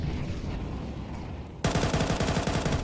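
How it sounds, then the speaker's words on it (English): Rapid bursts of gunfire punched through a wall in Counter-Strike, a sudden loud volley of repeated shots breaking in after a dull stretch of background game ambience. "that wall bang on the mark, but only 18 damage"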